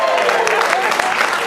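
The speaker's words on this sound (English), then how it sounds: "Give them a round of applause" A live improv show audience fills the room with dense, steady clapping and cheering, loud and continuous, with voices mixed into the crowd noise.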